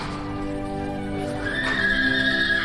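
Horses at the Puebla de Guzmán romería in Huelva, a street crowded with riders, give a loud, close neigh and whinny over steady hoof clatter and crowd murmur.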